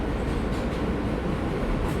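A metro train rides along with a dense, steady rumble and rush of wheels and carriage noise, heard from the hard plastic seating inside the car with no breaks.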